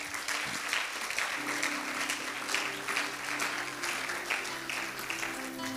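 A church congregation claps and cheers for the Lord at a sermon, a sustained, even wash of applause with a faint sustained tone beneath, moderately distant and without talk.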